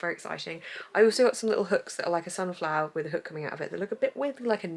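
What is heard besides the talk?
No distinct noise like a dog, phone or traffic.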